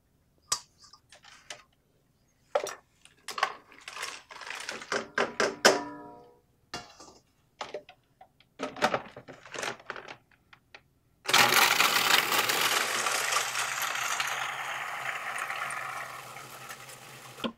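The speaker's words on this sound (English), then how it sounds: "we'll take all these ingredients to our food processor and blend them up" Spices being ground into chili powder in a food processor: first a scatter of clicks and knocks as the bowl is loaded and locked, then a loud steady motor whir with rattling grains, close.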